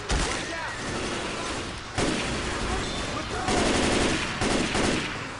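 Gunfire from Left 4 Dead 2 cracks in several loud bursts, sharp shots landing at irregular intervals over dense in-game noise and a voice.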